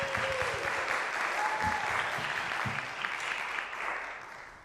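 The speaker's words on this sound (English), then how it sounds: "One more round of applause." Sustained audience applause filling a studio recital hall at a Halloween-themed tuba recital, steady and dense for several seconds with a brief whistle-like tone near the start and a gentle taper at the end.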